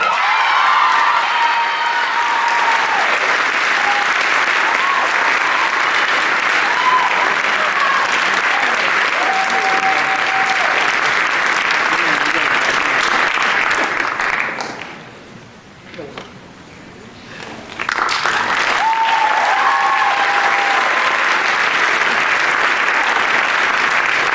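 An audience applauds at a high school scholastic honors night award ceremony. Dense, sustained clapping fills the hall, breaks off briefly in a quiet gap, then resumes just as strongly.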